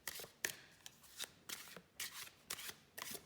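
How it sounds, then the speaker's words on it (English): Tarot cards being shuffled by hand in quick, regular riffling bursts, about six in a row, close and crisp against a quiet background. "Shuffling for Aries right now."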